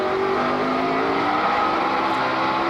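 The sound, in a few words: NASCAR race car engine jumping in RPM, tires spinning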